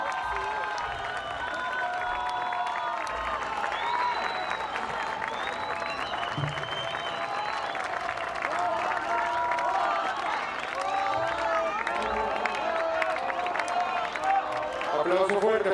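Audience applause after a jazz big band set at a live concert, dense sustained clapping with some cheering filling the room for about fifteen seconds, fairly distant and even, ending as a voice begins.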